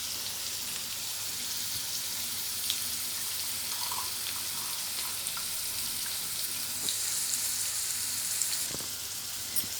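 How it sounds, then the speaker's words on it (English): Hot A2 ghee made from milk powder being sieved into a container, a soft continuous sizzling hiss like light trickling liquid, fairly faint, with a few small clinks along the way. "Now I'm going to sieve it."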